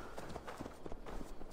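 Horse hooves clip-clop in the video game Assassin's Creed Valhalla, a quick run of soft, fairly close hoofbeats over low game ambience lasting under two seconds.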